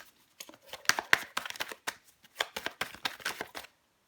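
Tarot cards being shuffled by hand, a quick run of soft papery riffles and slaps close up, a dozen or so crisp bursts in irregular rhythm before stopping.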